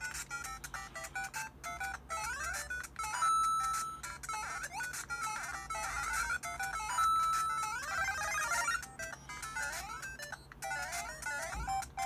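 Bright, bouncy chiptune Mario game music with quick beeping melodies and jump sound effects, playing continuously at moderate volume from a MIYOO MAX handheld emulator.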